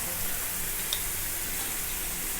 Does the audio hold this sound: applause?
no